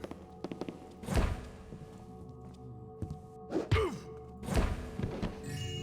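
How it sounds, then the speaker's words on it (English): In the video game Thief: The Black Parade, a flashbang is thrown and lands with soft thuds and knocks, followed by a brief burst, several muted impacts spread across a quiet scene. "I wasted a flashbang."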